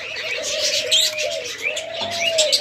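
Pure white doves at a large dove farm, coo-calling repeatedly in drawn-out rolling phrases close by, with chirps and tweets from many other caged birds layered over them.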